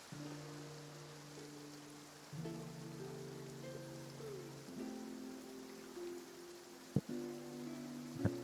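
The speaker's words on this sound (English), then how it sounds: "Oh, it's raining." Rain falling in the video game Genshin Impact, a steady soft hiss throughout under game music with sustained tones, joined near the end by a brief sharp hit.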